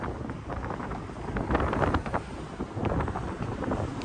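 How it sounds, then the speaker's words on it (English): Wind gusting across a microphone at a coastal drawbridge over an inlet, a low rumbling buffeting that swells and eases in irregular gusts, with no talk. "Woo! It's windy."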